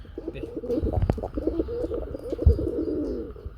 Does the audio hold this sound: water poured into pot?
no